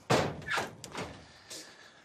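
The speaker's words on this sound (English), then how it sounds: "Shut the door." A door shuts with a firm slam and a few knocking thuds close by at the entrance to a heated greenhouse full of pelargoniums, then fades into quiet.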